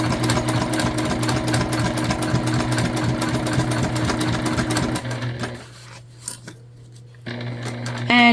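A sewing machine hums steadily for about five seconds while stitching a book bag tote seam, then stops, leaving quiet handling sounds before a brief resumption at the end.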